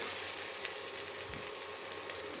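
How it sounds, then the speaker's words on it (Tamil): Onions sautéing in a pan with ginger and green chillies for a Tamil-style poori potato masala, a steady broadband sizzle throughout with a soft stir or scrape near the middle, no voices. "வெங்காயம் நல்லா வதங்கணும்."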